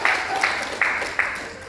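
A crowd at a marketing plan presentation claps in unison, four sharp, evenly spaced beats that each fade quickly over a low room murmur.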